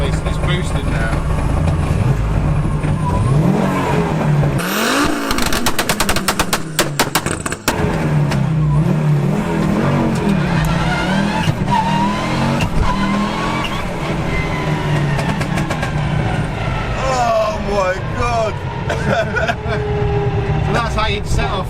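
A road legal rally car with a sequential gearbox idles and revs with its anti-lag system on, giving loud rough popping, crackling bangs and engine rumble up close, while people talk over it.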